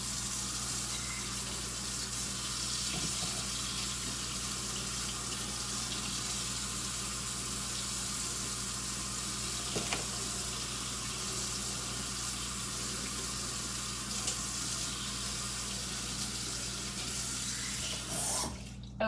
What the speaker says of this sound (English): I'm gonna turn my sink on and get the hot water going.